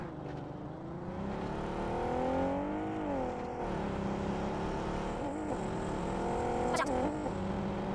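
Engine of a car in PUBG Mobile gameplay on Erangel revs steadily, the pitch sliding up and down as the vehicle turns around, with a brief sharp burst near the end; close and continuous throughout.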